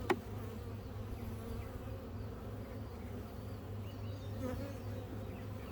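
Honey bees buzzing around a weak hive in an outdoor bee yard, a soft continuous drone of scattered insects with a faint click at the start.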